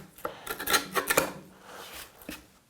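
A pattern maker's gouge cutting wood with a curved scooping action, giving a quick run of close, scraping and slicing strokes in an irregular rhythm, fairly quiet and alone.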